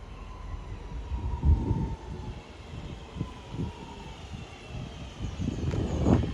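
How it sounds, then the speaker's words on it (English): A Northern Rail class 323 electric train sits at a station platform, giving a low steady rumble with intermittent thumps and a faint whine, heard at moderate distance without talk. "So we're going to board this train now."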